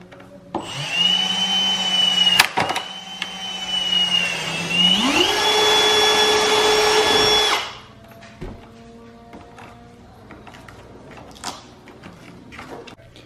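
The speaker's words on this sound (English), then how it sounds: "So I drilled all 4 holes" Power drill boring holes through a plastic front bumper lip on a BMW E46 CSL, a loud steady whine that rises in pitch midway and runs about seven seconds before stopping, followed by quieter handling noises.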